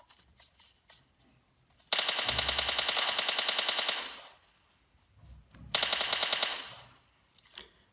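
Automatic machine-gun fire from PUBG played on a Xiaomi Mi A2 Lite phone comes in two loud, rapid bursts of shots, the first about two seconds long and the second shorter, separated by quiet.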